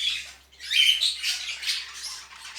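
Jumbo budgies in a breeding cage chatter and squawk in short, shrill bursts at close range over a low steady hum, with no voices.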